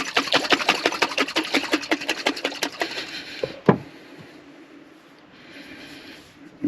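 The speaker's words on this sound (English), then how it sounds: "So shake this baby up. Emulsify it in its kimchi jar." A kimchi jar of oil-and-vinegar salad dressing with feta is shaken hard, giving a fast run of rhythmic sloshing rattles for about three seconds, then a single knock and a quiet pause.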